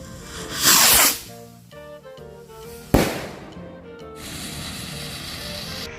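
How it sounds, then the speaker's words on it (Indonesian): Rocket King green firecrackers set off outdoors: a sharp fizzing hiss, crackling, then a single loud bang, followed by a steady sizzling spray that fades away. "selanjutnya kita nyalain mercon Rocket King yang warna hijau"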